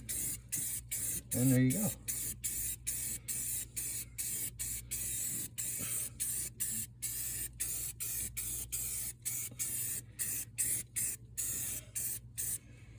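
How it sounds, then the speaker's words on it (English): An aerosol can of spray paint hisses in rapid short bursts over and over as it coats front brake parts on a Fox body car, close and loud, with someone speaking briefly partway through. "pick yourself up a can of spray paint"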